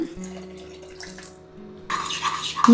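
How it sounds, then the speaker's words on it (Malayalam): One cup of milk pours in a steady splashing stream into a cake mix starting partway through, following a low hum and a few faint clinks; no one speaks. "1 കപ്പ് മിൽക്ക് ഒഴിക്കാം."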